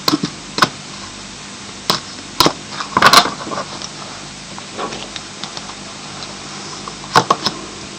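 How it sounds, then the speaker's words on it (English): A deck of tarot cards being shuffled by hand: scattered sharp taps and riffling bursts, with a denser flurry in the middle and quiet gaps between, close and alone. "I'll just give the cards a shuffle"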